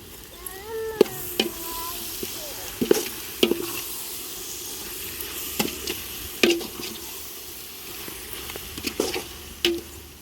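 Cleaned chicken sizzling in a hot pan with a steady frying hiss, punctuated by sharp scraping clicks of a spoon stirring at close range.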